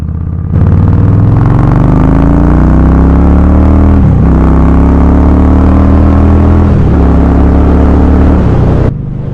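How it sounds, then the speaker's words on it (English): A Yamaha V Star 1300 motorcycle engine pulls hard onto a freeway, loud and close, its rising drone broken by two brief dips at gear changes before climbing again, running steadily alone throughout. "let's have a listen to the motor as I get onto the freeway here"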